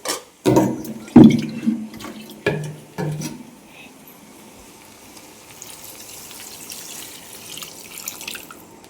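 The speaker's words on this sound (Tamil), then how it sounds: "இப்போ நம்ம தேவையான அளவு தண்ணி ஊற்றிடலாம்" Water splashes in several loud bursts as it is poured into a pot of mutton curry, then settles into a quiet, steady simmering hiss.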